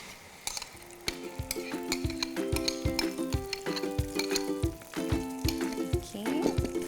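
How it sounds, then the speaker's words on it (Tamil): Chutney hits hot tempering oil in a pan with a bright, steady sizzle and frying crackle, overlaid by rhythmic clinks and scrapes of a utensil stirring, close up. "So once this one is almost tempering now, I'm going to add the chutney."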